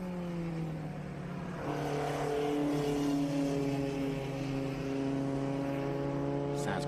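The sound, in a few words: BMW race car engine passing on track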